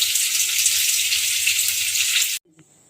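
Bitter gourd frying in a pan gives a steady, loud sizzle with no one speaking, then cuts off abruptly near the end, leaving a brief quiet tail.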